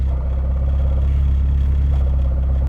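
Car gearbox idling in neutral with a rustling noise from the transmission that stops when the clutch is pressed: a steady low engine hum with a faint continuous rustle layered over it, close and unbroken.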